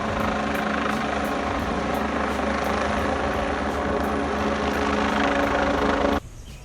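A helicopter returning over a mountain during a rescue, a steady loud rotor drone with rhythmic blade chop throughout that drops abruptly in level near the end.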